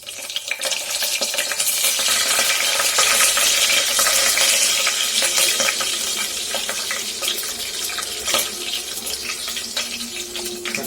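Green chillies sizzle and hiss steadily in oil in a pan while cooking veg biryani, with occasional spoon scrapes over the continuous frying noise.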